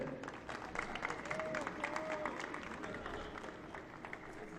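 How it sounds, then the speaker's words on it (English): A crowd at a youth soccer cup final awards ceremony applauds an award winner, steady clapping and crowd noise filling the whole stretch at moderate distance, with faint voices mixed in. "One more round of applause for Mateo."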